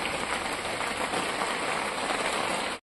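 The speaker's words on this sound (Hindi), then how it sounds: "तो वर्षा होचे देखि पारुथिबो tip tip tip tip tip tip खाली पानी पकोचे" Light rain falls steadily as a dense, even hiss of drops on surfaces, close and unbroken for about three seconds before cutting off, with no talking.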